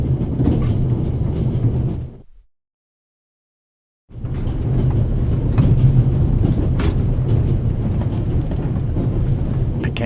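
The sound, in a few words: train running in video game The Raven Remastered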